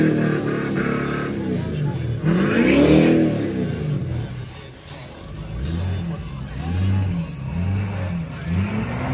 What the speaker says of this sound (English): he's about to fire up that turbo whistle.